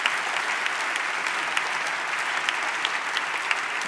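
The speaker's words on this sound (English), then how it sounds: "Please give them another round of applause." A debate audience gives its speakers a round of applause, many hands clapping in a dense, even wash with a few sharper individual claps standing out.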